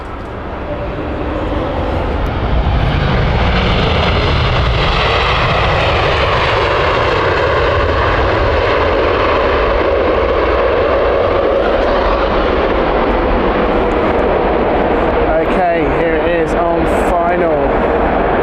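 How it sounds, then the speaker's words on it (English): A brand-new Virgin Airbus A330neo airliner on final approach to Heathrow swells in over the first couple of seconds into a loud, sustained engine roar with whining tones, and a voice talks over it. "Brand new Virgin Airbus A330"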